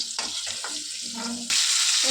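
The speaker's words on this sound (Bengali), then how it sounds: "আলুর দমের আলুগুলো মোটামুটি ভাজা হয়ে গেছে" Potatoes for Bengali alur dom frying in hot oil, a steady close sizzle with stirring scrapes and clatter, the hiss swelling louder toward the end.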